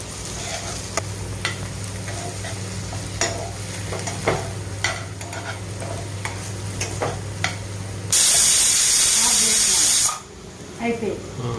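Eggplant fries in a pan while being stirred. A low sizzle carries tapping and scraping strokes, and a steady low hum runs underneath. Near the end, a loud hissing burst lasts about two seconds before fading back to quieter stirring.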